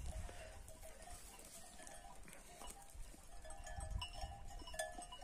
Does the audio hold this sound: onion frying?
no